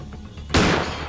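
A shotgun blast in the horror video game Granny: one sudden loud shot that fades into a brief reverberant tail, with a quiet hum of game ambience before it.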